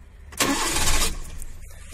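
A Maruti Suzuki Eeco with a faulty fuel pump cranks for about a second without catching, a short loud whirring burst near the microphone that cuts off into quiet.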